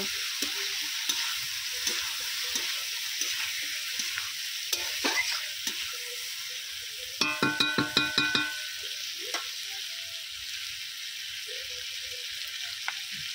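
Fried potatoes sizzle with spices in a pan over a steady frying hiss, while a spoon stirs with scattered scrapes and a brief burst of rapid clinks midway.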